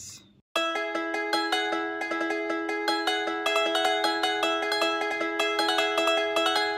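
Plucked lute sample melody processed with EQ, reverb and distortion, with a little noise underneath; a steady repeating pattern of sustained, shimmering notes begins after a brief silence and continues evenly.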